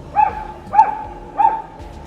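A German shepherd gives three sharp, angry barks, evenly spaced and fairly close, with no other sound around them.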